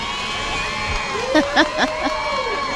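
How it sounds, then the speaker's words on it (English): A rowdy crowd at a personal watercraft racing event, stirred up by the announcers, gives a few short cheering bursts and whoops over steady engine drone and background chatter, moderately loud and distant. "Can hear the announcers getting the crowd all rowdy."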